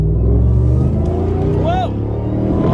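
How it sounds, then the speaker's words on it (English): RAM TRX pickup truck accelerating to highway speed, a loud, steady engine drone with a brief rising whine, heard from inside the cab. "About to give a little shot, get up to highway speed."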